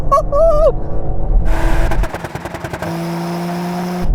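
A high-performance sedan engine, an AMG C63, BMW M3 or Audi RS4, revs hard in a drag race and bounces off the rev limiter, the loud roar breaking into rapid stuttering cuts before settling into a steady high drone, with a brief voice at the start.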